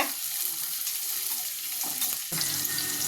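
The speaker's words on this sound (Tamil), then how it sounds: "இந்த வெங்காயத்தை இப்போ இதில் போடுறோம். நல்லா வதக்கிக்கணுங்க." Chopped onions and mustard seeds frying in hot oil for a carrot, bean and egg stir-fry, a dense close sizzle that flares louder as the onions hit the pan near the end, with no voices.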